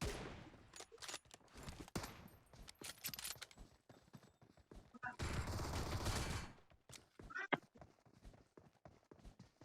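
Scoped rifle fire in an online shooter game, with rapid bursts of gunshots and a loud sustained volley mixed with footstep-like clatter, dense and close with no talk.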